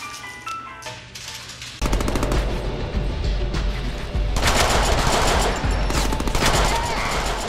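Rapid automatic gunfire in the Deadpool PC video game, loud dense bursts that start abruptly and keep rattling almost continuously, with a second heavier volley partway through.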